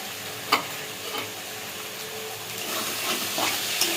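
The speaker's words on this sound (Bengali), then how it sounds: "তো এবার আমি নাড়াচাড়া করে এটাকে নাড়িয়ে নেব।" Lote fish (Bombay duck) curry gets stirred in a pan, with a soft continuous sizzle and hiss under a few utensil knocks, the clearest one near the start.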